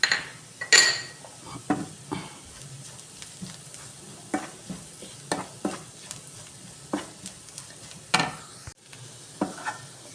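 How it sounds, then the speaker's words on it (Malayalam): Sautéed onions with chili flakes, pepper and salt being stirred in a pan: a spoon scrapes and clinks against the metal in short, repeated strokes over a faint sizzle. "അതിലേക്ക് ചില്ലി ഫ്ലേക്സ്, ഒരു തരി കുരുമുളക് പൊടി, ഉപ്പ് ആവശ്യത്തിന് ഇട്ട് കൊടുത്ത് മിക്സ് ചെയ്യാം"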